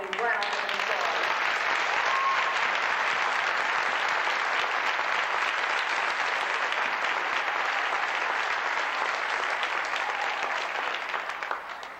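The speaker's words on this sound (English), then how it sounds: "Let's give them now a round of applause." A school audience gives North Penn School District students a long, steady round of applause, dense clapping filling the room and tapering off at the end.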